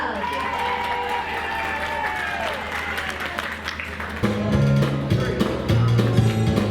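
Audience at a 1940s weekend show in Brighouse applauds and cheers a performer, steady clapping from a crowd that swells, with music starting up over it partway through.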